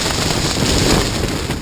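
Strong wind batters a tent on the shore of Fort Peck Lake during a windstorm, a loud, steady roar of buffeting gusts with mud and sand blowing against the mesh.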